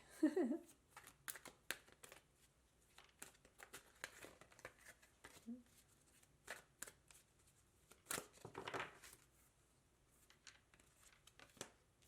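Tarot cards being shuffled by hand, soft papery riffles and slides in irregular bursts, close and quiet with no talking.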